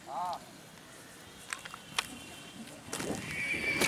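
A Marwari mare at the Pushkar fair horse market in India gives a short, clear whinny, followed by scattered hoof clops and crowd bustle, with people talking nearby.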